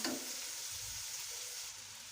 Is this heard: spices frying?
yes